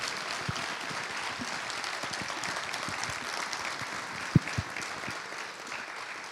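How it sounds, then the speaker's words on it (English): Sustained applause from a keynote audience honoring Rev. Dr. Starsky Wilson, a dense steady clatter of many hands filling the room with a few sharper claps standing out, no voices over it. "join me in giving another thunderous round of applause for Starsky Wilson"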